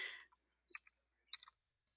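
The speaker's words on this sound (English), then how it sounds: "So I'm going to type over here in my notes" A few quiet keyboard keystrokes tapped out while typing notes on a computer, coming in small sparse bursts with gaps between them, close by and soft, with no talking.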